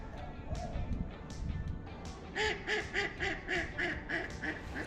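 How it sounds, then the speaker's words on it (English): Mallard ducks quack outdoors beside a winter bass-fishing spot, a run of quick rhythmic quacks at moderate distance following rustling background noise. "That mallard probably identifies as a wood duck."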